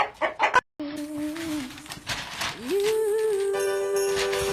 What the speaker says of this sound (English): this is my dad's chicken coop. Oh gosh, that's a beautiful rooster